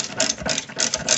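An 18mm caliper bracket bolt on a rear brake of a Mercedes GL450/ML350 being spun out with a ratchet, giving rapid buzzing clicks in two short bursts, close and loud.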